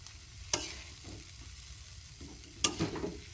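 Noodles stirred and fried in a pan at an outdoor field picnic, a soft continuous sizzle punctuated by two sharp scraping stirs of the utensil.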